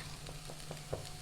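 Onions and ginger garlic paste sautéing in a pan, a quiet steady sizzle with a few soft stirring taps close by, no voices.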